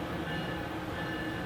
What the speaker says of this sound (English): the train whistle is always blowing